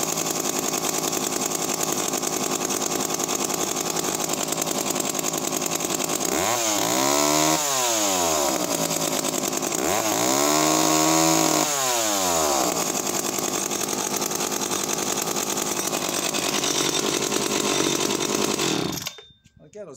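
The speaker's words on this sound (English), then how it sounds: "Let me show you what a well-configured 55 actually runs like." Vintage British Danarm 55 chainsaw running loud and close, a steady buzzing two-stroke note interrupted by two revving surges in the middle before cutting off abruptly near the end.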